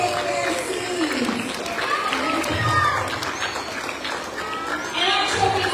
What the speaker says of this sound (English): Let's give our champions another round of applause as they take their seats.